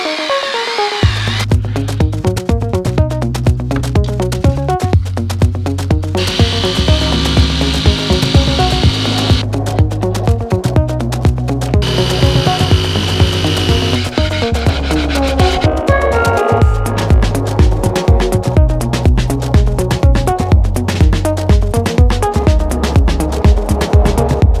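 Power tool cutting holes in wooden decking inside a Vauxhall van, a loud buzzing saw with repeated rhythmic cutting strokes, pausing and restarting several times, with no talking.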